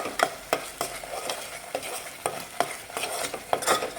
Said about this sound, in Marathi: थोडंसं एक अर्धा मिनिट जास्त भाजायचा मसाला